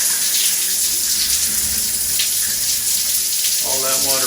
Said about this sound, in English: when I turn on the shower